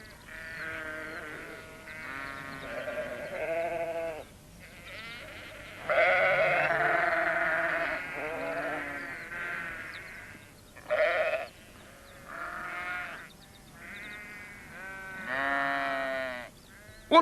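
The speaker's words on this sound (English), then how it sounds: "he saw the sheep in the garden and decided to help." Several sheep bleat in a garden, a series of clear, fairly close calls coming one after another with short gaps, some louder and longer than others, heard alone without talk.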